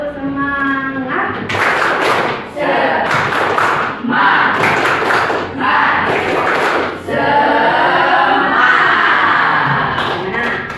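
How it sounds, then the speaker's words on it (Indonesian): A classroom of students performs a spirit clap chant, rhythmic bursts of hand claps in several quick sets alternating with loud group voices, close and lively. "Oke, tepuk semangat."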